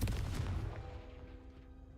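Confringo fire blast spell cast in Hogwarts Legacy, a single loud booming burst that trails off into a fading, ringing decay over about two seconds, with no talk over it.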